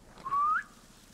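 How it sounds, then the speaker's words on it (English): A single rising whistle from a character in Sniper Elite 5, used to lure enemies; one short, clear tone that slides upward and ends abruptly, heard alone against quiet game ambience. "How about a little whistle?"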